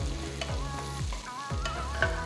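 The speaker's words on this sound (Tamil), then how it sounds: "2 பெரிய பல்பூண்டு பொடியை நறுக்கினது, 2 பச்சை மிளகாய் பொடியை நறுக்கினது, கொஞ்சமா கருவேப்பிலை சேர்த்து நல்லா வதக்குங்க" Onion, garlic, green chili and curry leaves frying in a pan for a tomato semiya dish, with steady close sizzling and a few sharp spoon-stirring scrapes against the pan, no talking.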